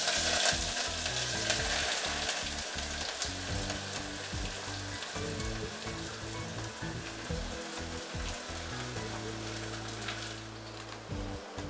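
Chopped onions sizzle loudly in a pan with chilies, a steady crackling fry with bursts of stirring and scraping throughout, close and continuous with no talk.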